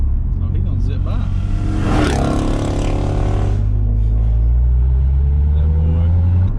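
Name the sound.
car zipping by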